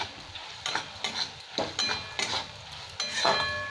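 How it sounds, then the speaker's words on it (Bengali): Tomatoes frying in a pan with a little salt for a paneer bhurji, giving a steady close sizzle broken by several sharp scrapes and clinks of a utensil stirring against the pan. "আবার আমি এই টমেটো 2-3 মিনিট ধরে ভেজে নেব"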